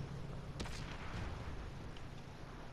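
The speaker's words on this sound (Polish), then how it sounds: "nie wiem kto we mnie strzela" A tank gun fires in the video game World of Tanks, an SU-100 tank destroyer in a capital-city map, with one sharp, booming shot followed by rumbling battle ambience and distant noise.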